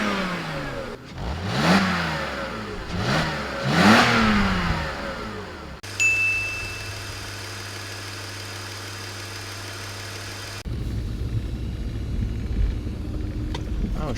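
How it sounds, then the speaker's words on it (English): A BMW E46 car is driven around the block. Its engine gives several sharp revs in quick succession, then settles into a steady idle-like drone and later a lower running rumble. "Now it's time to go for a quick little drive around the block."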